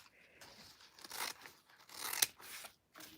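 Scissors trim the fabric of a sewn slouch shoulder bag near the closed-up exterior pocket, a series of close, crisp snips and fabric rustles in an irregular rhythm, quiet and heard alone.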